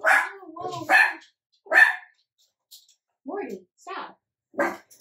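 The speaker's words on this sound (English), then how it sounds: "I have no idea what they're barking at." Two dogs bark in a loose, uneven series of short, sharp barks at close range, with brief gaps between them and a few barks quieter than others.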